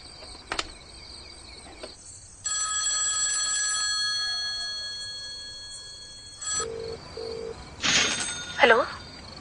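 A telephone rings on the line after a number is dialed, tones starting and stopping in bursts amid quiet background, followed by short beeps and a rising electronic sweep.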